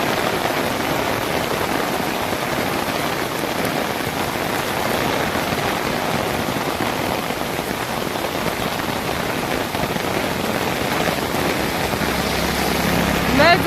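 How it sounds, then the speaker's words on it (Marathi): Heavy first rain of the season pours down in Nashik, a loud and constant roar of drops hitting the ground, with water running over flooded roads and faint voices underneath. "खूपच जोरात पाऊस आलाय."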